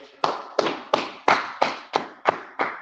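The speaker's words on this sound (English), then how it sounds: "Clap it up." A group at an evening brotherhood class claps in unison, eight loud, sharp, evenly spaced claps at a steady rhythm of roughly three per second, each with a brief room echo.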